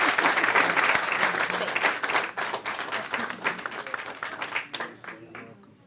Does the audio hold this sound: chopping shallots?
no